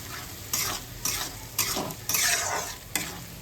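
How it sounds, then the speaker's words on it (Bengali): Chilli powder, turmeric and coriander powder are stirred in a sizzling pan for kabuli chana, with close, rhythmic scraping strokes roughly every half second over a constant fry. "এবার ভালো করে নাড়িয়ে,"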